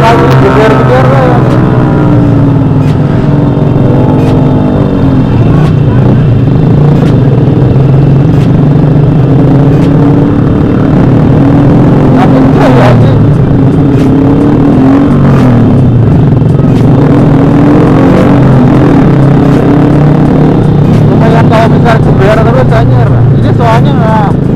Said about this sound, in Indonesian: Terlalu geber-geber ya.